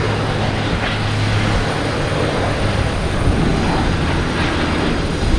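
An American Airlines airliner landing on runway 22 left at Boston Logan gives a constant, broad engine rumble and whine, moderately loud and steady, with no speech.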